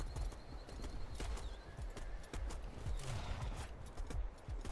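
Horse hooves clip-clop in the War of the Roses video game during a battle on the Barnet map, rapid uneven hoofbeats over steady background din, with faint clatter and a brief whinny-like sound.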